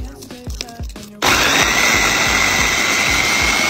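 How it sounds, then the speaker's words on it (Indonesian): A small electric food chopper starts up abruptly and whirs loudly and steadily, grinding chili paste of red chilies, garlic, kencur and lime leaves, after a few short knocks and clatters. "Ini aku pakai chopper dari Mitotiba."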